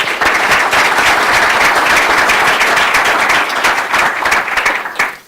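Applause from a tech conference audience at a Microsoft ASP.NET Core developer talk: dense, loud, steady clapping that holds for about five seconds and then thins out and fades at the end, with no talking.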